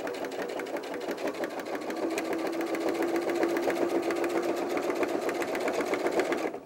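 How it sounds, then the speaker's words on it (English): A sewing machine top stitches the straps of a backpack for an 18-inch doll, running steadily and close up with a fast, even mechanical whir for the whole stretch and no pauses. "I'm just going to give my straps a nice little top stitch"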